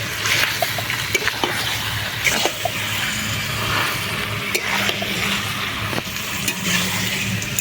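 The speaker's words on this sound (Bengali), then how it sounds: "তো এখন মাংসটা মশলার সাথে ভালো করে মিশিয়ে অনেকক্ষণ ধরে কষাতে হবে।" Chicken kosha cooks over low heat in a pan on a village clay stove, the meat stirred with spices. Soft sizzling runs throughout, broken by sharp scraping knocks of a spatula at irregular intervals.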